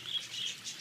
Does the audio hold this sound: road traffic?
no